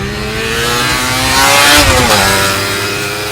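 A sport motorcycle engine revs hard past 6500 rpm as its electronic exhaust valves open, a loud close-up rising then falling howl that peaks midway and settles back, with no talk.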